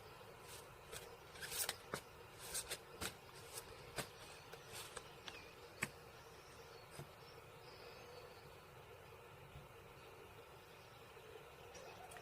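Tarot cards shuffled by hand, a quick run of soft crisp flicks and taps over the first half, then quieter, with faint room noise.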